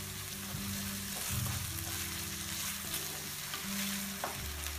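Vegetables sizzling and frying in a pan as tomato ketchup is added and stirred in, with steady crackle and occasional scraping thumps of stirring.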